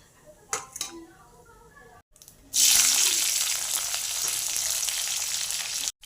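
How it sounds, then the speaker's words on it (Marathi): Mustard seeds hit hot oil for a dhokla tempering and burst into a loud, steady hiss and crackle, after a few clinks of the pan. "तेल गरम झालेलं आहे, त्यामध्ये मोहरी टाकूयात।"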